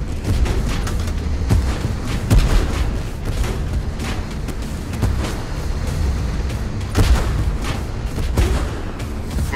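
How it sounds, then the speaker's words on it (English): Heavy artillery bombardment in the tank combat game Tank Force: a dense, continuous rumble of blasts, with several sharper, louder booms standing out near and far through the whole stretch. "Under bombardment!"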